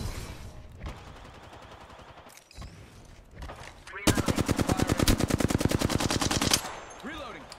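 Automatic gunfire in the video game Apex Legends, a few short bursts followed by a long, loud, rapid stream of shots near the end, with brief voice sounds mixed in.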